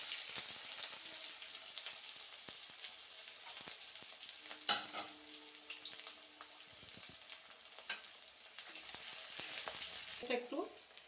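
Chopped onion fries in the oil left from cooking cauliflower kofta, giving a quiet, steady sizzle with occasional light clicks of stirring and a brief scrape near the end, and nobody talks.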